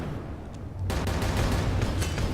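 Missiles fire in rapid succession in the space combat game Galactic Junk League, a dense rolling burst of launches that starts abruptly and continues steadily without talk.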